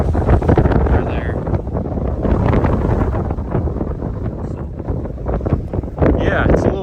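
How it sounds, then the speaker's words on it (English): Strong gusts buffet the microphone beside a cornfield on a chilly day, a steady roaring rush that swells and fades without pause for the whole stretch. "So, yeah, it's a little windy out."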